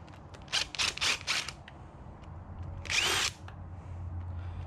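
Power drill spinning off engine intake bolts on an LS V8 in a junkyard: several quick close whirring bursts in a row, then one longer run after a pause, over low background hum.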